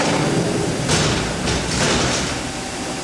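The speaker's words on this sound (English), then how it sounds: "I'm going to shut the door" Door of a Mazak CNC mill sliding shut in a machine shop, a broad rumbling slide with a couple of dull thumps over steady machine noise.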